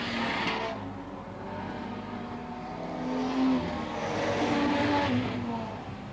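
Modified sedans lap a speedway at a 2002 Victorian title race at Western Speedway, Hamilton, engines droning and revving steadily as cars pass close, with louder swells midway and near the end.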